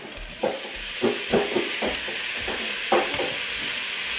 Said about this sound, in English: Alright, so I'm going to add in a little bit of soya sauce now as well.